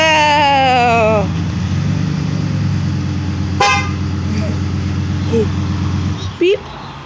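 A child's toy car horn toots a few times during a backyard car wash with a child and a pickup truck, while a steady motor hum runs underneath and a voice speaks.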